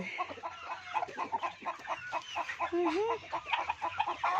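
Chickens cluck and call on a farm with hens laying eggs, a dense stream of overlapping clucks and short squawks, fairly close, with occasional rising calls and a faint voice in the background.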